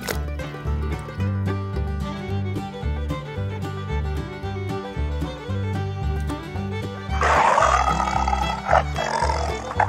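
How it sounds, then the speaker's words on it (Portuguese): A tiger's roar, part of a plastic-animals-stuck-in-mud scene, rises late over continuous loud background music, a rough burst near the end of the stretch. "Tigre."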